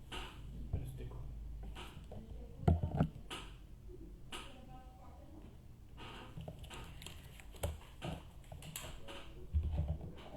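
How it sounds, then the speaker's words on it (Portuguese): Keys clatter on a computer keyboard in irregular bursts of typing, close but soft, heard under and between a person speaking. "Parece o teclado."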